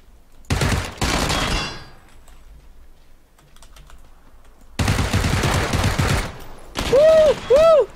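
Gunfire in PUBG comes as short bursts of rapid shots, one near the start and another later on, separated by a quiet stretch, followed by a couple of short tonal game sounds.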